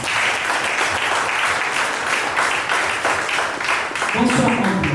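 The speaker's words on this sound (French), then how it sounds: "On applaudit." Applause rings out at a civil wedding ceremony, steady clapping from a gathered audience lasting several seconds, fairly loud and close, with murmuring voices mixed in near the end.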